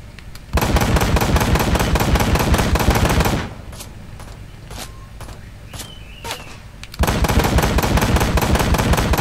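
Automatic gunfire in the video game Ride to Hell: Retribution, long loud bursts of rapid shots with a pause of scattered lighter sounds between them.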